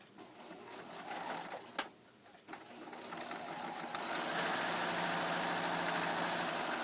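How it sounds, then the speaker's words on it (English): A sewing machine stitches a quarter-inch seam on a quilted windmill block, its motor whirring steadily and nearby with a couple of brief clicks before settling into a continuous hum. "So again, I'm sewing 1/4 inch seam."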